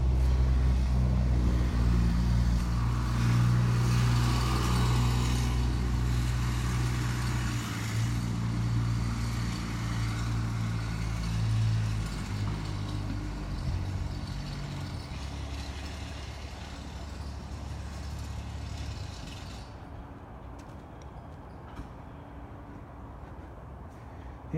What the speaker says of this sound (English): With all the trucks around today, hopefully there's not too much background noise